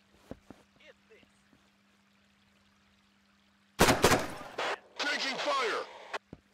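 Gunfire in the military shooter Thunder Tier One comes in two loud, dense bursts after a quiet stretch of scattered faint clicks, rattling close and harsh for about a second each, with a low steady hum underneath.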